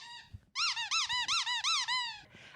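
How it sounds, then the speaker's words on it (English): A squeaky banana-shaped dog toy squeaks seven or eight times in a quick, even rhythm, close and clear, with a softer squeeze before and a wheezy release after. "A squeaky toy for the dogs."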